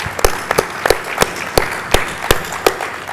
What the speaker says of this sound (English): We should give them a round of applause, I think.